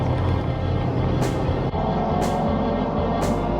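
A Subaru Impreza rumbles past at a car meet, its loud engine droning steadily up close with a low, throaty tone and a few brief hissing bursts over the top.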